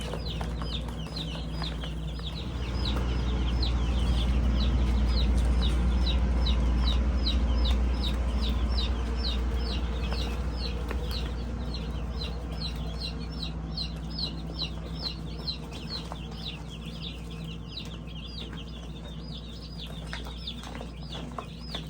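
Baby chicks in a brooder, a dense chorus of rapid high peeping with soft clucks, continuous and close, over a low steady background hum.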